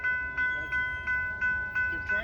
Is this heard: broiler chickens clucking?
no